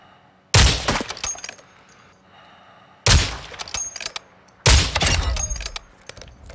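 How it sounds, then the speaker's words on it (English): In a video game, bots shoot in three sharp, loud bursts of rapid gunfire, each a cracking volley with ringing metallic tails, separated by quieter gaps with faint distant shots. "There's bots shooting all the way over here."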